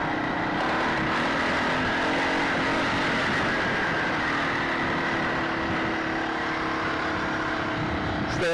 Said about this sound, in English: So I apologize for the trike noise in the background.